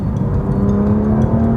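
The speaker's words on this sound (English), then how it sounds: "That engine's now more insistent low down and angrier up the top." A BMW M2 Competition's twin-turbo engine, rated at 404 brake horsepower, revs loudly and close, with a strong, rising, insistent drone held through the whole short burst.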